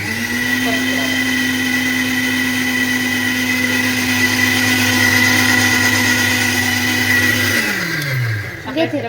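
A kitchen mixer grinder runs with a loud, steady electric whine and drone for about eight seconds, then winds down and stops, close to the listener.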